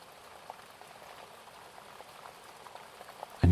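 Steady soft rain patters quietly and evenly as a calm bedtime backdrop, with one louder thump right at the end.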